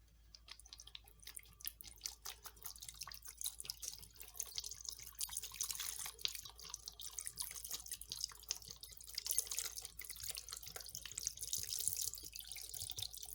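Coconut water pours steadily into a blender jar holding chopped carrots and ginger, a continuous splashing, gurgling trickle close up that swells slightly toward the end, with no talk.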